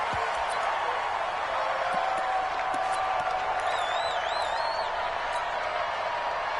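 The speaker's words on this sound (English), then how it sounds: "This crowd is ready as their guys get set to match up" A crowd at an NFL game in Levi's Stadium, heard as a steady, broad roar of cheering with scattered whistles and a wavering whoop.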